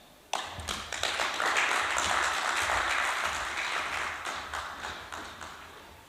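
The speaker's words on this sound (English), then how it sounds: "Another round of applause for the Broadcasting Director of MACRA." Audience applause in a conference hall at a social media influencers conference, a broad wash of clapping that starts abruptly and holds steady for several seconds before easing slightly toward the end.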